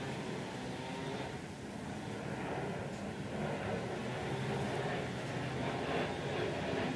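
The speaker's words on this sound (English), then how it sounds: "there's always an airplane flying ahead too when I'm filming this" Steady broadband engine roar of an airplane passing overhead outdoors, continuous and moderately distant for the whole stretch with no breaks, heard during concrete desk form building.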